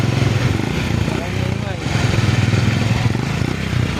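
A faulty Honda CB 125 motorcycle in Sariaya, Quezon runs close by with a rapid, chugging engine beat that briefly dips and then picks back up, while people talk over it.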